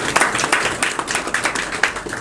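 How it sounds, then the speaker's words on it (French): Audience members at a press conference clap in a brief burst of scattered, moderately loud applause, with individual hand claps audible. "je vous demande d'applaudir"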